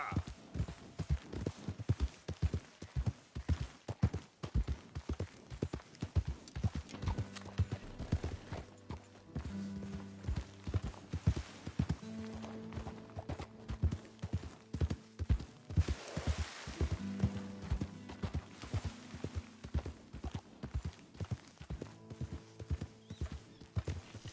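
Steady clip-clop of horse hooves trotting in Red Dead Redemption 2, rhythmic and close, with a low droning hum and occasional tonal notes in the background.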